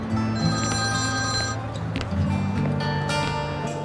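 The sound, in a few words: telephone ringing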